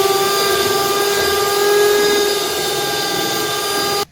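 An electric hand mixer whirs steadily through cake batter with oil added, a close, constant high-pitched motor whine lasting about four seconds before cutting off.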